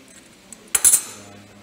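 Channel-lock pliers grip and turn the threaded spindle-bearing oil cup off a Bridgeport milling machine quill housing, giving a short cluster of sharp metallic clinks and scrapes, close and fairly loud, against a quiet workshop.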